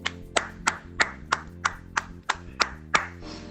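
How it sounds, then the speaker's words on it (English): Slow, evenly spaced claps, about ten distinct sharp hand claps in a steady rhythm, close and clear, with a sustained musical tone underneath, given at an alumni honors event for advancement and career services. "let's give advancement and career services a round of applause"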